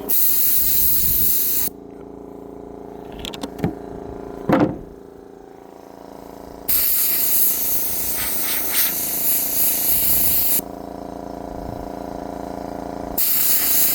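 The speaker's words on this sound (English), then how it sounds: "let the air compressor catch up" An air compressor in a workshop releases loud, steady hissing blasts of air, with several long bursts separated by quieter stretches and a few clunks in between.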